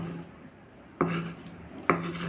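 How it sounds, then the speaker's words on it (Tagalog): A knife slices through a tomato on a cutting board for a paco fern salad, giving two distinct, crisp cuts about a second apart over a faint, steady background hum. "mag-slice lang ako ng kamatis"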